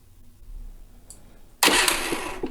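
A Harbor Freight Predator 3500 inverter generator starts up by remote: after a quiet stretch with faint clicks, the engine bursts abruptly into a loud, close, steady roar.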